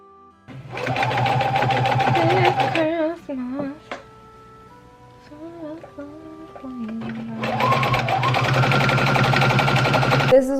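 A sewing machine stitches the side seams of a dress in two loud, steady bursts of rapid whirring at the start and end, with quiet handling and music in the gap between.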